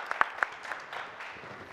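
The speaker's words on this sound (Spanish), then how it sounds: "quería pediros un aplauso muy fuerte para todos" Brief audience applause at a university conference, a few sharper claps standing out at the start before the clapping thins into a soft, steady patter.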